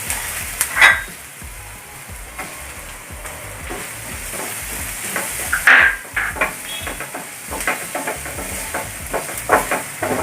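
Sliced onions and garlic frying in a pan for chicken cutlets, a continuous close sizzle and crackle with occasional stirring scrapes, no talk heard.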